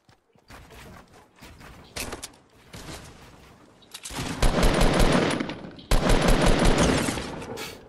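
Gunfire in the Fortnite video game: scattered shots at first, then loud, close bursts of rapid automatic fire in two long volleys with a short gap between them.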